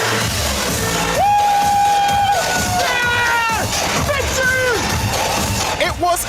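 A lively crowd cheers and shouts at the close of a DJ set, with whoops and whistles rising over the crowd noise, loud and continuous.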